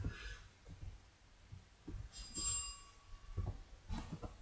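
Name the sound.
doorbell ringing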